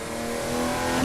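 A Porsche 911 GT2 (993) in the racing simulator Assetto Corsa, driven at Le Mans' Circuit de la Sarthe, holds a loud, steady engine drone that climbs slightly as it revs, alone with no voices.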